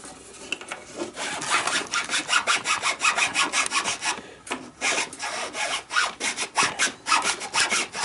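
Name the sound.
chainsaw file polishing a notch in an ash longbow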